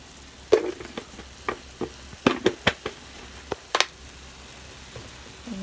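Perilla leaf water boiling in a pot on the stove, a soft bubbling hiss dotted with irregular pops and ticks, close and steady, with no voices.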